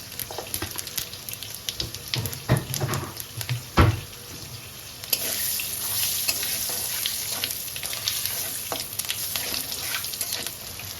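Whole dried red chillies, bay leaf and cumin seeds spluttering in hot oil for a prawn mustard curry, with sharp bursts and clatter of stirring early on, then a steady loud hissing sizzle.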